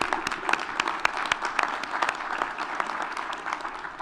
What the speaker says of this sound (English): let's give an applause for our panelists.